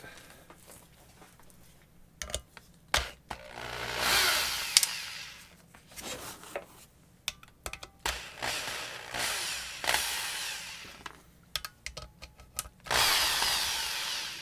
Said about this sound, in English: Yeah, 3/8 drill